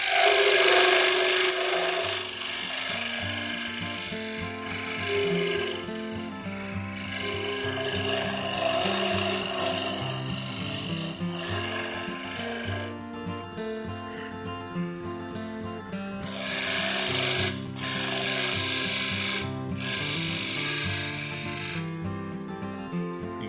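A wood lathe gouge smooths a spinning softwood column with a sustained scraping rasp over the motor's tonal hum. The cutting is close and continuous, breaking off briefly a few times before it resumes, with no talking.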